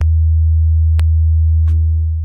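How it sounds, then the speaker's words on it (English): A steady, loud low-pitched test tone of about 24 hertz plays to a dish of ferrofluid shaped by magnets, with a couple of faint ticks and a brief higher blip over the drone. "low sounds of about 24 hertz hits the resonating frequency and makes it freak out"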